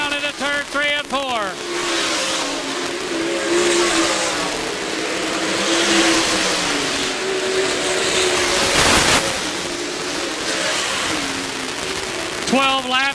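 Dirt-track race cars at State Fair Speedway drone steadily through a feature race, engines rising and falling as they pass, with sharp revving sweeps at the start and end and an announcer talking over the noise.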